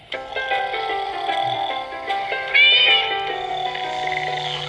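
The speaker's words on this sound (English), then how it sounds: "No, it was just a cat." A cat meows over a steady musical background, with a brighter, louder cry near the middle of the clip.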